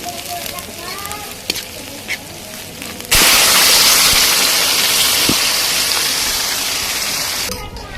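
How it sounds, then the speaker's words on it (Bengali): Garlic, onion and dried chili with spices dropped into hot oil for a fish-head and potato dish, bursting into a loud, sudden sizzle partway through that holds steady and close, after quieter kitchen clatter. "আমি গরম তেলের মধ্যে দেখেন রসুন, পেঁয়াজ আর শুকনো মরিচ আর 12 মশলা দিয়ে"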